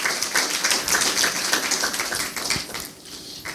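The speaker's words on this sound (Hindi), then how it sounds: "अरे प्रभु के आगे तालियां नहीं बजाओगे?" A church congregation applauds as a group, filling the space with a dense, steady roll of many hands that holds at moderate volume and then thins out toward the end.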